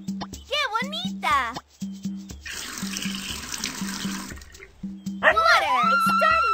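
In a cartoon garden scene, water pours steadily onto a growing plant for a couple of seconds, framed by excited shouting voices and bouncy music before and after.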